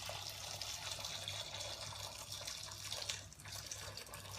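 Freshly boiled water pours in a steady stream into a pot in a home kitchen, a soft continuous splashing and trickle that runs quietly and evenly throughout.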